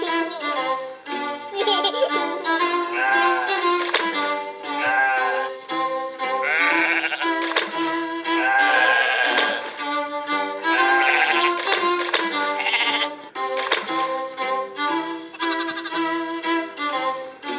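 Sheep in a video game bleat over and over, layered and loud, their calls nearly continuous and close, with no talking over them.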